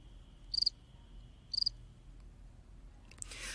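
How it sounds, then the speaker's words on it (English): Two short cricket chirp bursts used as a Messenger emoji sound effect, each a quick trill about a second apart, with a faint steady tone underneath and a brief rustle near the end. "Crickets,"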